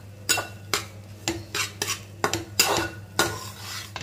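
A spatula scrapes and clatters through egg fried rice in a pan, about ten sharp, rhythmic stirring strokes, close, with a faint sizzle beneath.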